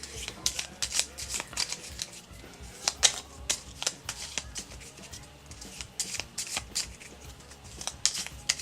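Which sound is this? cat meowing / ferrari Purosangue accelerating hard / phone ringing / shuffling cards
shuffling cards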